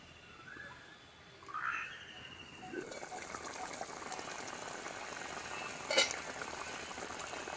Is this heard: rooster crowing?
no